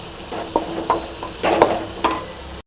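Tomatoes frying and being stirred in a pan for a banana-stem kootu: scraping stir strokes over a soft sizzle, close and moderately loud, with no voices.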